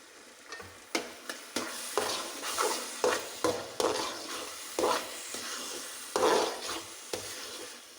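A spoon scrapes and stirs thick jackfruit preserve (Kerala chakka varattiyathu) in a pan with a soft sizzle, in steady rhythmic strokes, close and fairly loud with no voices.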